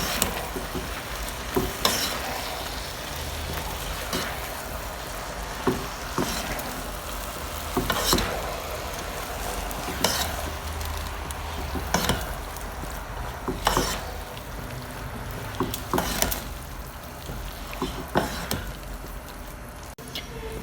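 Cooked rice is gently stirred and folded into hot jaggery syrup in a pan, a steady soft sizzle under repeated scraping strokes of a spoon, close and continuous with no talk.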